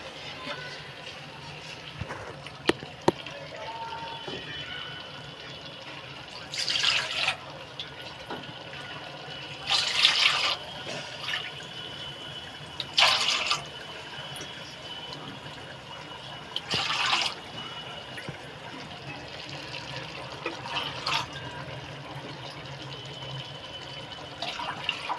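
Water is poured from a bowl into a pot for chicken akhni pulao, seven bowls measured in: about five separate splashing pours, each a few seconds long, with quiet kitchen sounds between them.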